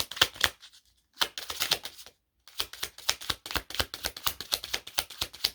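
Tarot cards being shuffled, a rapid papery riffle of close flicks and taps in quick bursts separated by short pauses.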